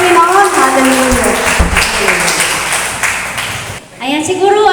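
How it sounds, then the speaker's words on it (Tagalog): Congregation clapping loudly for the Lord at a parish prayer meeting, mixed with voices and singing-like tones, the clapping fading briefly near the end before voices resume. "Malakas sa palakpak sa Panginoon."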